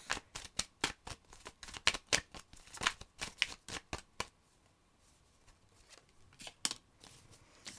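Tarot cards being shuffled in a rapid series of crisp riffling flicks, a dense run of strokes followed by a quieter pause and then a few more shuffles, close and isolated.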